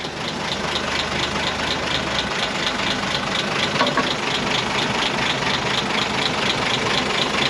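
A World War II Karrier K6 truck engine idles while warming up, a steady close rumble with a regular ticking pulse running through it throughout, and no one speaking.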